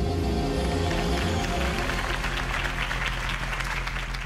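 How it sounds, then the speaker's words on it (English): Crowd applause in a Batman video game, following a Harvey Dent campaign speech; sustained clapping and cheering from a large crowd fills the clip, fairly steady and moderately loud throughout. "could have heard that applause"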